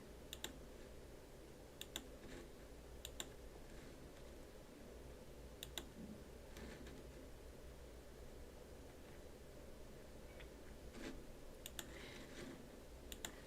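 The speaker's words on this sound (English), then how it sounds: "So if you hear me clicking, I apologize." Mouse and keyboard clicks from someone working at a computer while sorting people into groups, faint scattered clicks at irregular intervals over a steady low hum and background hiss.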